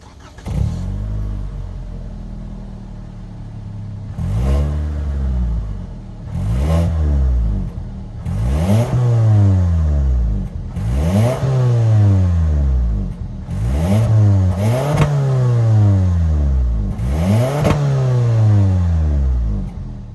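A 2023 Toyota Camry LE's 2.5-liter four-cylinder engine idling, then revved repeatedly in sharp bursts that climb and fall back, loud and close, with no talking.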